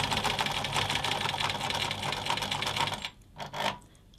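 Sewing machine stitching across the raw end of a fabric belt, a fast, even mechanical whirr running continuously for about three seconds, then stopping with two short bursts of back stitching, close and alone.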